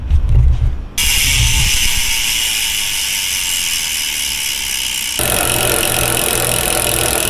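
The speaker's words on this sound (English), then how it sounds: "let's just appreciate the sounds of the hub" A Trek road bike's rear hub freewheel makes a loud, continuous ratcheting buzz, close up, preceded by a brief thump and growing harsher near the end.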